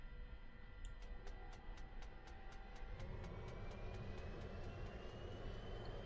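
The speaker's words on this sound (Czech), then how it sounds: "Takže tohleto, co slyšíte, není motor. To nejsou motory, to je jenom auxiliary power unit." An L-39 Albatros jet's auxiliary power unit running in the DCS flight game, a faint, steady turbine whine with a rising tone and a regular series of soft clicking ticks over a low rumble.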